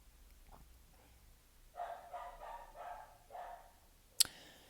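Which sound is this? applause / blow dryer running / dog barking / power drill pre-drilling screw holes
dog barking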